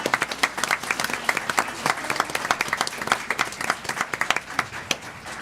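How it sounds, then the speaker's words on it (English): An audience at a school board meeting gives a steady round of applause lasting several seconds, many hands clapping at once in a meeting room, with a few voices faintly underneath. "So let's give this group a big round of applause."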